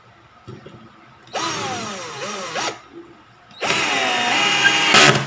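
A Black and Decker GC1800 cordless drill whines in two strong bursts on a high torque setting, its motor pitch rising and dipping under load as it drives a screw, with a short quiet gap between runs.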